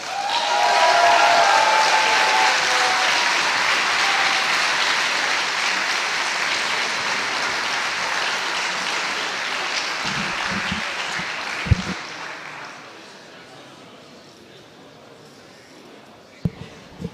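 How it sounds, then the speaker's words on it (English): Sustained applause from an audience at a fencing event fills the first twelve seconds, dense and steady, then fades out into quiet room tone with a few faint knocks. "So give them a round of applause."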